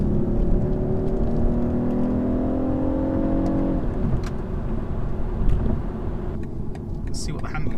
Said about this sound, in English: when I put my foot down now, you're going to hear quite the difference in engine tone